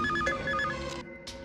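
A telephone rings in a dramatic film scene, its repeated electronic ring tones sounding close and steady for a short burst, with no voices.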